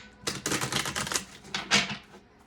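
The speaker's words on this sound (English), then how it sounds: "Let me shuffle one more time." A rapid flurry of crisp tarot card riffling, close and loud, followed by one more quick riffle.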